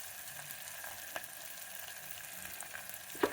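Ginger garlic paste goes into a pan of fried onions, producing a soft, quiet sizzle with a few light taps of a spoon and a sharper clink near the end.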